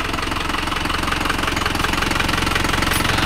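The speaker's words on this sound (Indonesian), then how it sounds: "Mesin normal ya, tidak ada ngobos dan tidak ada asap" A rebuilt Isuzu Panther 4JA1 turbo diesel engine runs at a steady idle close by, with an even, continuous knocking rumble throughout and no talking.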